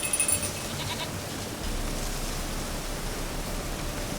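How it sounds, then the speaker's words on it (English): Goat in The Witcher 3 Wild Hunt, a short bleat-like call near the start over a steady hiss of game ambience, then a louder, broader wash of background noise that continues to the end. "Oi, goat."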